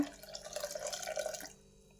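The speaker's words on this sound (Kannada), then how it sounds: "ಇದಕ್ಕೆ ಬಿಸಿನೀರು ಕಸ್ಕೊಂಡಿದ್ವಲ್ಲ ಇದನ್ನು ಸೇರಿಸ್ಕೊಂಬಿಡೋಣ ಈಗ" Hot water poured into a pot of moong dal soup gives a soft, close trickling and splashing that runs for about a second and a half before stopping, with no talking.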